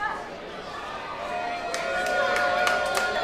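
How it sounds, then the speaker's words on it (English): Crowd noise from an audience at an indoor robot fighting show, a steady murmur of many voices that swells slightly, with a few sharp cheer-like bursts near the end. "Let's hear some noise from the crowd."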